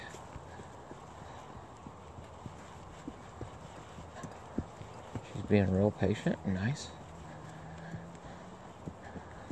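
Horse hooves clip-clopping at a steady walk during a ride, light regular hoofbeats throughout with a brief spoken remark in the middle.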